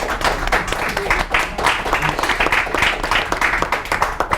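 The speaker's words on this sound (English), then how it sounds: "Give them a round of applause." A conference audience applauds a panel of guest speakers at the close of an education Q&A session, steady dense clapping filling the room throughout without a break.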